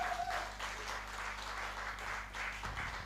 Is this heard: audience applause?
yes